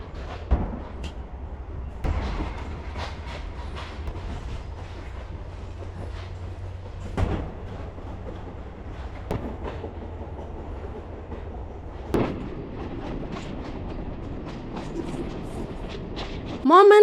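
Passenger train on the Nairobi to Nyahururu line rolling along the rails, a steady low rumble with periodic clacks and thumps of the wheels over rail joints, and a brief squeal near the end.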